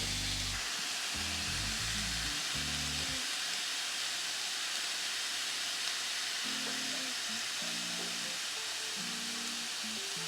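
Flanken beef short ribs in an Asian marinade searing on a Ninja Foodi grill: a loud, continuous close-up hiss and sizzle throughout, with low tonal background music underneath.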